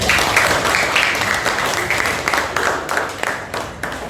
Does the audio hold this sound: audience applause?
yes